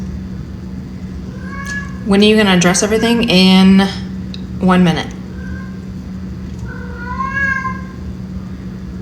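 A cat meows repeatedly, several loud drawn-out cries in a row, with a person talking in between and a steady low hum underneath.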